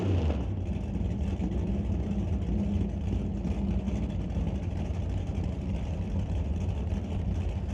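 A Chevrolet Malibu racing a Corvette at an ET drag race, heard as a continuous loud engine roar from the track with a steady droning rumble throughout.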